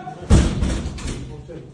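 Police pounding on a door during a raid on a criminal gang in Batman, Turkey: a heavy slam, then continued thudding with shouting voices over it.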